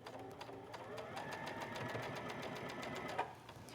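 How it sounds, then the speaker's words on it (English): A sewing machine runs a straight stitch along a rolled hem on cotton voile, a steady rapid mechanical patter that continues unbroken for the whole stretch at moderate, close volume. "I'm just going to hold it up in the air and begin stitching."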